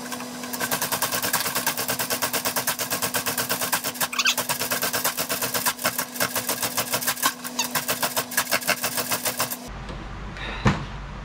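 A Yamaha Aerox scooter being repeatedly kicked over, its small two-stroke engine chattering and buzzing steadily at close range for about ten seconds before cutting off abruptly, with a brief clunk afterward.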